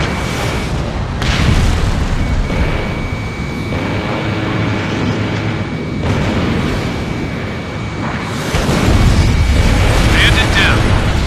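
Missile launches and booming explosions during an Ace Combat Infinity aerial mission flying the X-02 Wyvern, with rumbling jet noise, several loud bursts, and radio voices speaking over parts of it.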